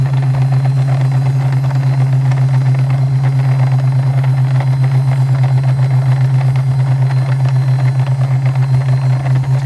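A homemade DIY ultrasonic cleaner shaking hard gives off a loud, constant low mechanical drone with steady vibration, unbroken for the whole stretch.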